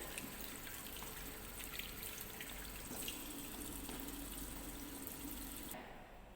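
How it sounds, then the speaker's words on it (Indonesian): Running tap water pours steadily into a sink while soap is rinsed off hands during a microbiology lab practical, a faint, even hiss that continues throughout and stops just before the end. "Setelah itu kita bersihkan sisa sabun dengan air mengalir."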